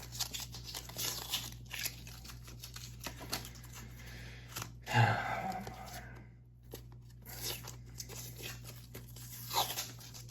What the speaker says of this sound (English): Maybe I should be able to pull this tape off